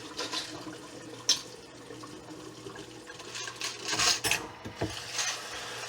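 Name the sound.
water running while rinsing brass cartridges in a sink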